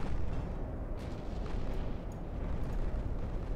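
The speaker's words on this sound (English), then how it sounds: "You got hit by a torpedo." Torpedoes strike a warship in the naval game Ultimate Admiral: Dreadnoughts, making a dense, continuous low explosive rumble with a few sharper bursts, loud and sustained throughout.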